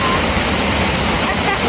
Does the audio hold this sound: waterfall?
yes